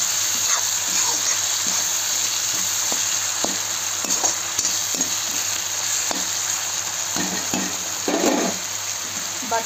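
Ginger and garlic fry with onions in a pan for a chicken curry, a loud continuous sizzle broken by repeated scrapes and knocks of a stirring spoon, with no voices.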